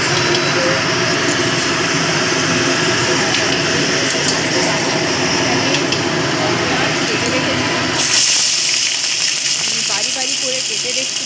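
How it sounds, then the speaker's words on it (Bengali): Two onions frying in a pan for homemade biryani, a loud, steady hiss and sizzle throughout that shifts in tone toward the end. "সেই দুটো পেঁয়াজ আমি ভাজতে দিয়ে দেবো"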